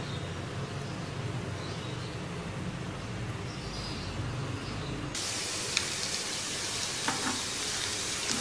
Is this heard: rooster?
no